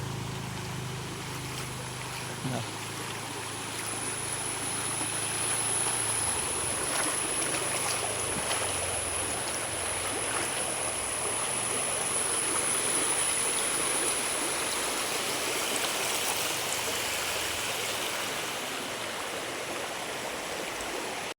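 Floodwater rushes steadily and loudly through an overflowing channel in Thrissur, a continuous broad roar that swells slightly partway through and carries on without a break.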